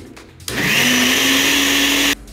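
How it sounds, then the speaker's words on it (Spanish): A blender runs steadily for under two seconds, whirring loud and close as it mixes a cereal-infused-milk milkshake with ice cream and cookies, starting abruptly and cutting off sharply, with no talking. "Tapamos nuestra licuadora y"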